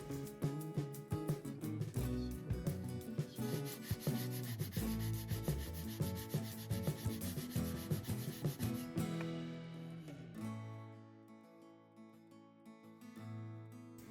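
Rhythmic back-and-forth sanding strokes on wood filler over a fireplace surround, with steady background music, the rasping stopping near the end while the music carries on.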